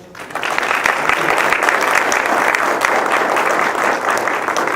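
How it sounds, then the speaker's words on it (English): A board meeting audience bursts into a full round of applause for a departing member, steady, close clapping that holds strong to the end without talk. "I just would like everybody to give him a round of applause"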